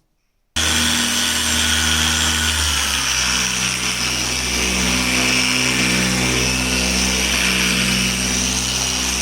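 A power polisher fitted with a soft pad buffs a car headlight with glossy compound, running as a loud, steady whine that starts abruptly after a brief silence and holds without a break.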